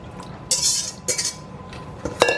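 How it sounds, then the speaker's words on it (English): A thickened mixture is whisked in a bowl, producing several bright metallic bursts of a whisk clinking and scraping against the sides, close and fairly loud with short pauses between strokes. "I decided to put it back in, whisk it up some more, and put it through the strainer a second time"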